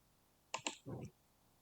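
Two quick, crisp mouse clicks sound close together in a quiet room, followed by a short, soft murmur.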